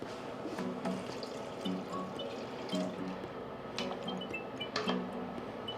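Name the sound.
water poured into a pot of risotto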